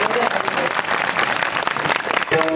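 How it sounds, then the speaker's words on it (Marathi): Women in the audience at a Marathi kirtan clapping together, a dense, steady wash of crowd applause filling the room, with a voice speaking over it. "स्वरात टाळी वाजली तुमची, स्वरात."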